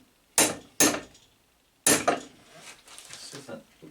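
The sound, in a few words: hammer striking a punch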